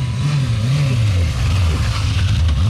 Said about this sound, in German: Stefan hat nochmal das Motorrad ausprobiert, weil irgendwas stimmte nicht ganz.